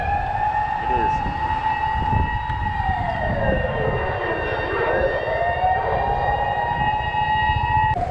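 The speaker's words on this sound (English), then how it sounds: "Some emergency service is being called. Is it an ambulance? Yep, it is." A Japanese ambulance siren at night, sweeping steadily up and down and holding loud for the whole stretch over a low rumble of traffic.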